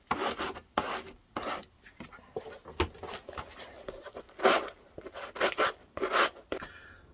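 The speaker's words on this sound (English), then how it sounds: "I'm going to use this to rough up the inside of the sole and also the underside of the boot" Rasping strokes rough up the inside of a boot sole and the boot's underside ahead of contact adhesive, coming in short separate bursts that are close and fairly loud, with no talk.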